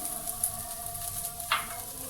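Onions for spring roll filling sizzle in a pan, a close steady hiss of frying with a soft stirring scrape or two breaking through.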